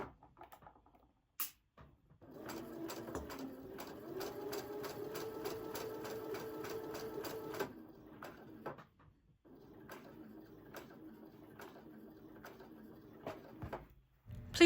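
Electric sewing machine stitching quilt fabric, a steady close mechanical whir with rapid needle ticking that runs several seconds, stops briefly, then resumes for a second stretch before ending.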